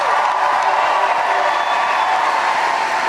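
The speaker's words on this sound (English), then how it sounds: "Let's give Aaron another round of applause." Dense, steady crowd noise at a political rally in Charleston, South Carolina, loud and continuous with a broad wash of applause and cheering throughout, no distinct single voices standing out.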